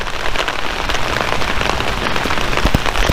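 Steady, dense rain patters on a car's freshly detailed paintwork during a storm, with a constant hiss of drops and occasional sharper splashes, close and alone.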